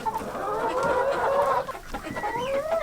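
Chickens cluck and murmur steadily at close range, several birds overlapping in a continuous, busy chatter.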